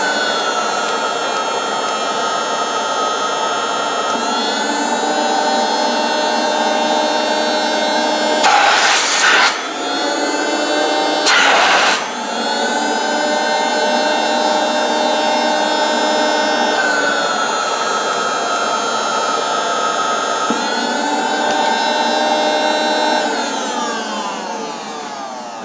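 A Mazda RX8 A.I.R. air pump runs with a steady whining hum full of tonal harmonics, close and loud, its pitch shifting slightly a few times, with two brief rushing bursts in the middle.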